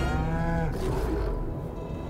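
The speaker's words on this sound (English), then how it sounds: "Cow, cow." A cow in the video game Baldur's Gate 3 gives one long, loud, low moo that fades into breathy noise, with no talk over it.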